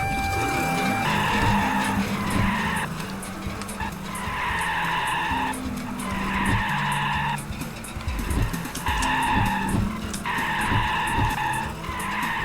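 Red Thunder, the fastest car in the Trabi Racer video game, races along with a steady engine drone and repeated loud tire squeals and skids that come in regular bursts throughout.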